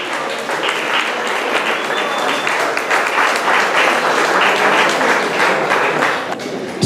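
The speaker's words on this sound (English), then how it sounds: "Give him a round of applause." An audience at a cricket board awards ceremony breaks into sustained, loud applause, close and dense clapping that holds steady for several seconds before tapering at the end.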